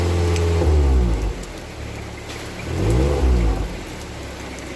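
Suzuki New Carry pickup engine idling nearby, revved twice in smooth swelling pulses that drop back to a steady low idle, with no voices.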